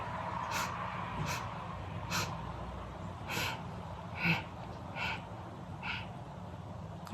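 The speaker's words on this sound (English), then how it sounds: "So first let's inhale 4 equal sniffs, and then we're going to exhale." A person doing a breathing exercise takes eight short, even sniffs, four in and then four out, each a sharp breathy puff spaced about a second apart over a low background hum.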